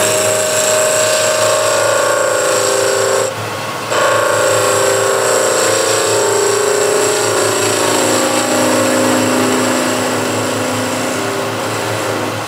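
Wood lathe running steadily as a skew gouge cuts pine, a loud continuous whine with a constant tonal hum that drops out briefly then resumes.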